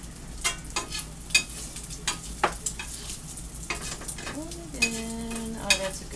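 Egg foo young fries in a pan, with a steady close sizzle broken by scraping and stirring clicks as the runny egg is pulled back in toward the middle.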